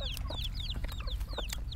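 Chickens cluck and chirp busily nearby in a rural Thai yard, with short, overlapping calls over a steady low outdoor rumble.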